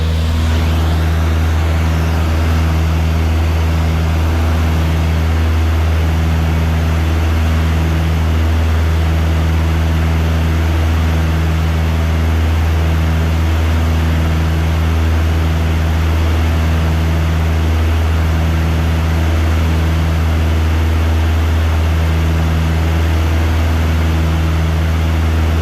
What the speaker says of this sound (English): Airplane's running really nicely.